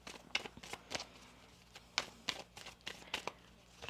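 Tarot cards are shuffled by hand in a quiet room, with soft crisp riffles and slaps coming in irregular bursts, faint and close.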